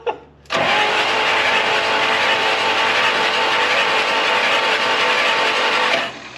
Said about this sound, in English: Let's see if this starter is any good. There she goes.